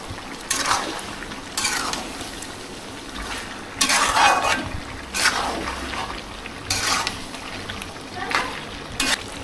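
Chicken wings, legs and skin with potatoes being stirred and fried down in oil in a pan, giving intermittent scraping and sizzling bursts that rise and fall every second or two, with a voice talking over the cooking.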